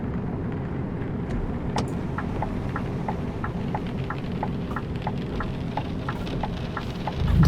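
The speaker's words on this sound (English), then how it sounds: "The rain has begun." Rain in Euro Truck Simulator 2 hisses steadily over a low engine and road rumble heard from inside a truck, with light ticking drops scattered throughout and a bump in loudness at the end.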